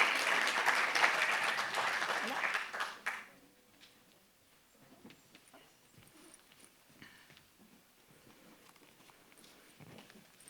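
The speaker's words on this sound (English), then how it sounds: "Un aplauso grande para todos ellos." Conference audience at a panel on types of capital gives a burst of loud clapping for about three seconds, which quickly dies away into quiet room noise with faint shuffling.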